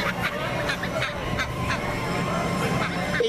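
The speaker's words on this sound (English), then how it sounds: "ducks" Ducks at a day out call in a busy outdoor setting, several honking, quacking cries rising over a murmur of background chatter and crowd noise.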